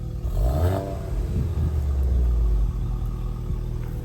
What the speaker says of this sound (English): So believe it or not, the Golf is idling.